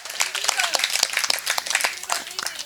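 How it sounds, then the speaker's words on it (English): An audience at a political rally gives a round of applause with dense, steady clapping throughout, while a speaker talks over it. "let's give her a big applause"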